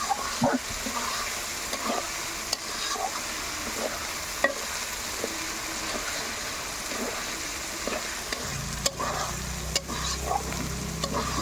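Mango leaves stir-fried in a pan, a steady sizzle with repeated scraping stirs and clacks throughout, close and fairly loud, with a low hum entering near the end.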